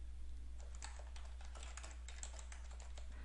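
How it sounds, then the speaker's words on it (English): Steady, fast typing on a computer keyboard, a stream of soft clicks over a constant low electrical hum, with no talking. "And then I'm going to start typing."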